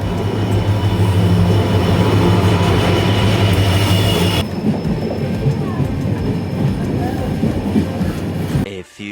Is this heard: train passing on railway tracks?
yes